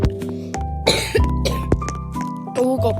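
Several short, harsh coughs burst out close to the microphone at irregular intervals, separated by brief quiet gaps and faint clinking.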